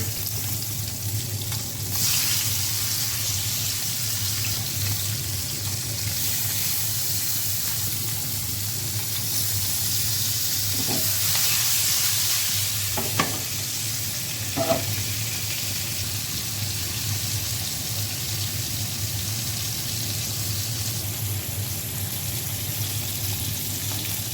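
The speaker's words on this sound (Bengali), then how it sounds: "আর এখন মাছগুলো ভেজে নিব" Fish frying in a pan previously used for eggplant, a steady broadband sizzle running throughout with a few faint clinks near the middle, no talking.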